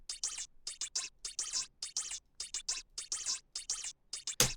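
Processed hi-hat samples, filtered and pitch-shifted, tick in a quick syncopated pattern of crisp bright hits, with a sharper burst at the very end.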